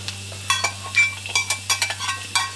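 Onions, carrots and celery tossed into a hot stir-fry pan set off a bright sizzle with quick irregular scrapes and clatter of utensil against metal, close up over a low steady hum, no voices.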